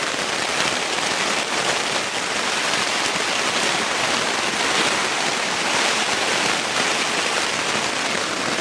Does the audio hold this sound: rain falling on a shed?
yes